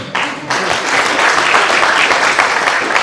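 Audience applause at a school leavers' party and book release, a dense, steady wash of clapping that swells after a brief dip and holds loud and close throughout.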